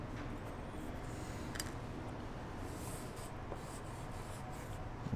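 Material for a sketchbook slip case being cut, heard as a steady, close rasping drag of a blade across the surface with a few faint ticks.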